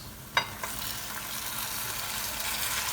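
Tomatoes dropping into a pan of golden-brown frying onions: one sharp plop near the start and a smaller one after, then a steady close sizzle with occasional stirring.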